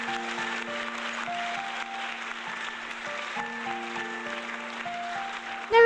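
A steady wash of crowd applause at the close of a speech, with a sustained musical tone under the clapping.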